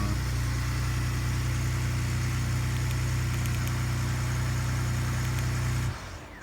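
A loud, steady 2018 Ford Raptor pickup truck engine idles close by on a cold day with a low rumble, then cuts off abruptly near the end.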